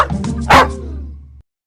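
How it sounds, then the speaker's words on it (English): A dog gives one loud, close bark with a short yelping edge that fades over about a second, then silence follows. "Dog."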